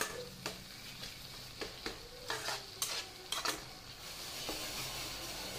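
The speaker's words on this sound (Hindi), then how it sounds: "अब इसे मैं फिर एक मिनट तक अच्छे से भून लूँगी" Tomato and onion gravy for sev tamatar sabji fries quietly in a pan, a soft sizzle broken by a series of clicking, scraping spoon strokes as it is stirred and mashed.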